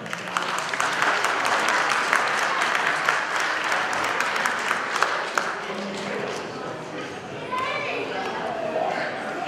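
Wedding guests at an Armenian reception in Yerevan applaud the newlyweds, sustained crowd clapping filling the room for several seconds with light chatter mixed in.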